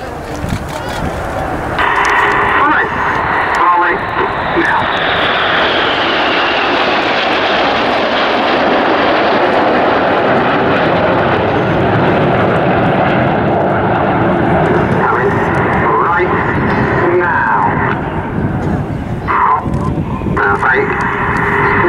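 Red Arrows jets fly the Whirlwind manoeuvre at the Cosford air show, a loud continuous jet roar that swells and pans overhead, with a commentator talking over it.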